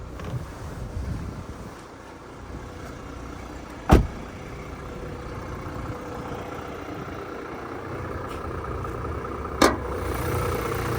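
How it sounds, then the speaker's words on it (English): A 2021 Toyota LandCruiser 300 Sahara with a 3.3 litre twin-turbo engine idles steadily outdoors, a low, even rumble under gusty wind buffeting the microphone, broken by two sharp knocks. "we'll hop out and have a look underneath the engine while she's running"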